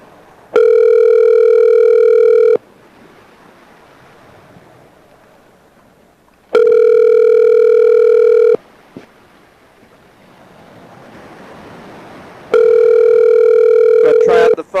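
Loud steady telephone dial tones in a video game, three identical two-second bursts spaced about four seconds apart, with a quieter hiss and a faint click between them.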